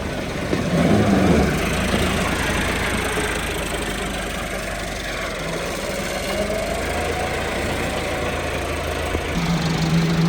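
A tractor engine idles and runs steadily in a potato field during planting, a continuous mid-pitched rumble with faint knocking that holds close and even throughout.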